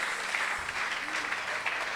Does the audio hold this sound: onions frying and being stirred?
no